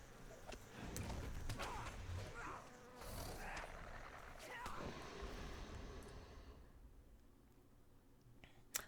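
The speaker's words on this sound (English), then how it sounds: "Oh god, bees." Bees buzz in a video game, an insect drone mixed with other game sounds and effects for several seconds, fading toward the end.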